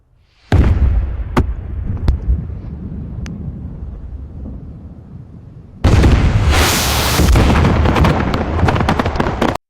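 Rocket explosions: several sharp, isolated cracks over a rumbling wash, then a sudden loud roaring blast that keeps going for the rest of the clip.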